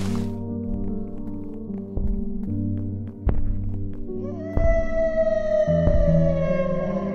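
A loud, droning siren-like wail from the Siren Head monster in Minecraft, with layered eerie tones, swelling in stages and holding long sustained notes, heard on its own.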